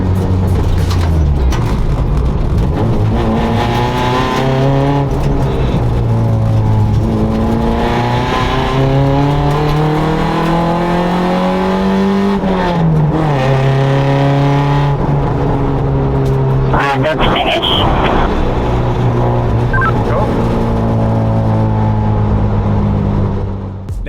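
A Hyundai Excel rally car screams at full throttle on a stage, its engine climbing through repeated rising revs with short dips at gear changes, loud and close from inside the cabin, with no talk.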